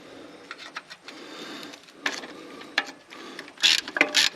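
Ratchet wrench clicking on a bolt during an alternator replacement on an International Acco 1850D cabover truck, in irregular bursts of ratcheting with short pauses, louder toward the end, with no talking.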